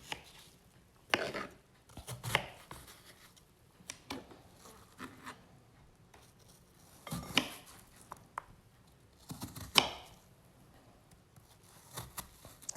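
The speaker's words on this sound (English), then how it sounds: "Chop up some apples" Knife cutting small apples in half for applesauce, giving a few sparse, crisp chopping knocks with quiet pauses between them, close by and alone.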